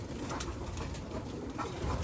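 Racing pigeons coo in a loft, giving soft, low repeated coos over a busy background of fluttering and shuffling, close by with no voices.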